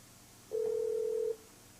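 A single steady telephone tone, about 0.8 seconds long, sounds clearly from a landline handset while dialing star 69 to call back the last caller, heard alone over a quiet background hum.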